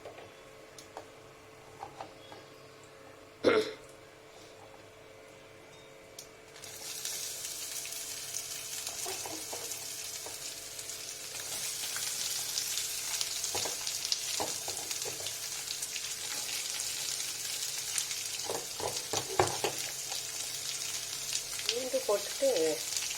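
Onions with garlic hit a hot pan and fry with a steady, faint sizzle that swells into a broad hiss, broken by a few soft ticks and scrapes.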